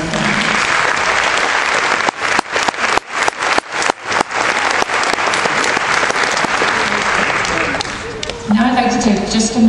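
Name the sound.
audience applause for graduates' families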